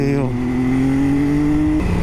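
A Kawasaki Vulcan cruiser motorcycle passes close and loud, its engine drone holding a steady pitch before dropping off sharply as it goes by, heard from another moving motorcycle on a bypass.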